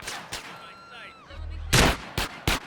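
Gunfire in the video game GTA San Andreas: several sharp, loud shots in quick succession near the end, after a stretch of game sounds and a low rumble.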